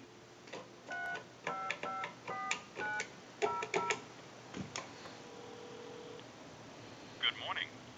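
A run of touch-tone dialing beeps, about eight short tones in a steady rhythm, followed by faint clicks and a brief ringing burst near the end, calling a time-and-temperature line on a converted Stromberg Carlson wooden wall crank telephone.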